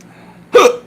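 A single sharp hiccup, loud and close, a brief voiced catch over faint room noise.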